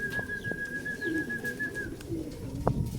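Racing pigeons back from a 73 km club training toss at a loft in Calamba, Laguna coo softly up close, with a steady high whistle drawn out in the background.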